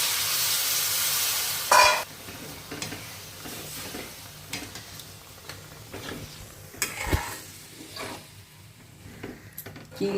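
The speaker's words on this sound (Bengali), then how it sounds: "জল দেওয়ার পরে ভালো করে নাড়িয়ে নিচ্ছি যাতে তলাটা না ধরে যায়" A spoon stirring coconut prawn curry in a pan after water is added, soft scraping and gentle simmering sizzle with intermittent louder scrapes, close and moderately quiet.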